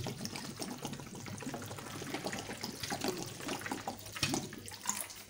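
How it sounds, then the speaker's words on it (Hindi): Cold tap water pouring over boiled spaghetti in a pot, a continuous splashing gurgle with uneven bursts and trickles, fairly close and quiet, with no talking. "इसके अंदर ठंडा पानी ऐड कर रही हूँ।"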